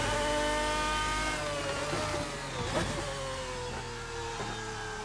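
A Lamborghini V12 engine in the Assetto Corsa racing sim holds a loud, steady, rising drone with layered harmonics, easing slightly and climbing again through the run with no talking.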